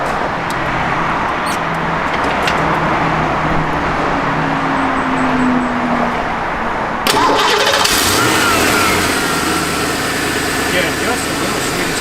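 A 1965 Ford Mustang with a K&N air cleaner cranks and catches partway through, then idles in a loud, close, rumbling tone with some revving. A voice speaks over it now and then.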